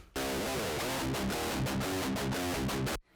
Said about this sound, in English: if your guitar tone sounds like this, aka no cabinet